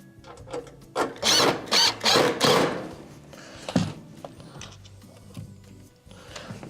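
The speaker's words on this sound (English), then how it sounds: "Hold it and reinstall your first screw." A screw being driven back into the control panel of a Whirlpool electric stove, several short buzzing bursts of a powered driver in quick succession, then quieter handling and tapping noises.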